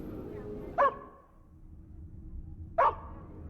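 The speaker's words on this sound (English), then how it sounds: "Now, I hear dog noises." A dog in the detective video game Hauma barks twice, about two seconds apart, each a short sharp bark over a quiet low background.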